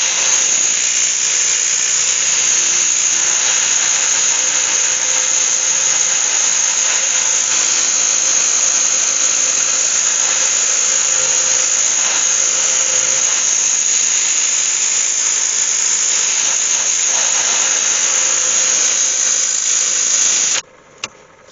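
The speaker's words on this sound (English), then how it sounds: "Let's get and sand it." An oak fruit bowl from a wind-blown tree is sanded on a wood lathe, giving a loud, constant high hiss and whine that runs unbroken for about twenty seconds before the lathe cuts out abruptly.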